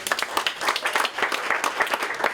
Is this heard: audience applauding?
yes